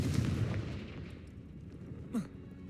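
A muffled explosive burst opens the moment in Hogwarts Legacy as the Confringo fire spell is cast, fading into a low rumbling wash with a brief whooshing flare near the end.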